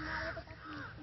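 A crow caws clearly in a harsh, drawn-out call, moderately close, heard outdoors in a district of Bihar where crows have been dying in cold weather.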